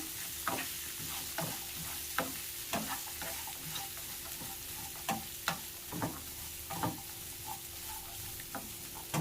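Grated fresh coconut is mixed into a pan of peanut prasadam with soft, regular scrapes and taps of a spoon over a faint background hiss. The sound is fairly quiet and close, with no voices.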